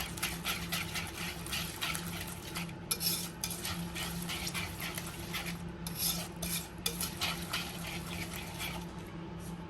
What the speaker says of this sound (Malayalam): നമുക്കിതിലേക്ക് 1 സ്പൂണ് കേർഡും കൂടെ ചേർത്തിട്ട് ഇത് നന്നായിട്ട് ഒന്നുകൂടെ മിക്സ് ചെയ്യാം